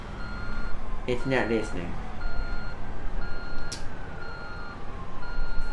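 Truck in the video game Construction Simulator 2 sounding its repeated reversing beeps at a steady interval over engine rumble, while someone talks briefly over it.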